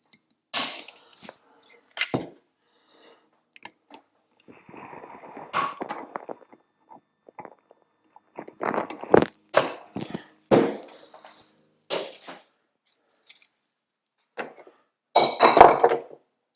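Metal tabs being bent over on a transmission part, heard as sparse close taps, clinks and scraping knocks with short pauses between them in a quiet room.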